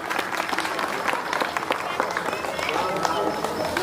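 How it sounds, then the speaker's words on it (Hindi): Applause at a children's junior Ramlila stage performance, a dense patter of many hands clapping steadily and fairly loud throughout, with crowd noise and voices mixed underneath. "तालियां"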